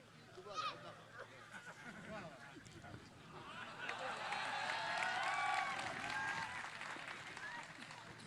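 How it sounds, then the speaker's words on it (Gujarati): A live audience at a Gujarati comedy and garba show claps, and the applause swells over several seconds into a steady wash with some cheering, while a voice talks over the start. "વધાવો તાળીઓથી."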